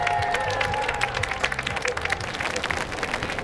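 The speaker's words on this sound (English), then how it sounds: "we want to give a huge round of applause to General George Washington and Martha." Clapping from a crowd of spectators along the route of a George Washington birthday parade in Alexandria, Virginia, a dense patter of hands that grows busier toward the end, mixed with murmuring voices.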